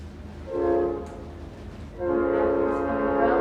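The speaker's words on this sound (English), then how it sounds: "the train reminds me of the London Underground." A train sounds two long horn blasts over a steady low rumble, the second blast longer and fuller than the first.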